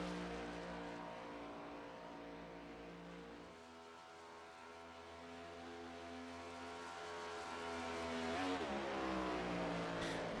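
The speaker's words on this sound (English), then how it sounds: "His car's shifting up through, got 5 gears." Race car number 15 at a circuit accelerates hard, its engine note climbing and dropping as it shifts up through a five-speed gearbox, loud and continuous throughout with a sharp rise near the end.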